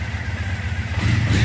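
A Triumph Thruxton motorcycle engine idling cold at around 1,000 RPM, a steady low burbling rumble close by that continues without pause.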